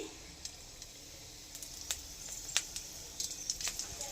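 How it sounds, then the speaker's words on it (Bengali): Whole spices (bay leaf, dried red chilli, cinnamon, cardamom, fennel and cumin) tempering in hot oil left from frying radish give a soft, steady sizzle with scattered crackles and pops that grow busier toward the end, with no talking. "মূলা ভাজা হয়ে গেছে, ওই তেলে ফোড়ন দিয়ে দেব।"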